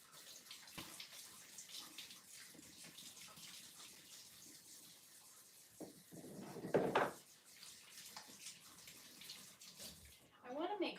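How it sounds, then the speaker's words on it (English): A tap runs quietly while hands are washed under it, a faint steady water rush broken by splashes and handling noises, with a swell of louder splashing near the end. "Now I have to wash my hands again."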